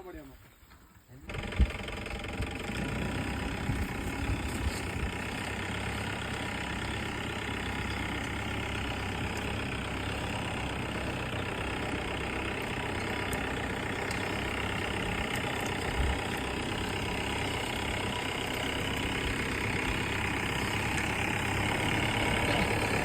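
A Mahindra Thar 4WD idles off-road. Its engine holds a steady low rumble that starts abruptly and continues unbroken, with voices talking over it.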